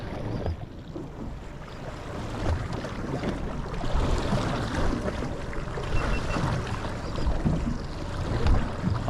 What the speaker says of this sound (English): I'm just going to leave my motor running because there's a few swells running through here.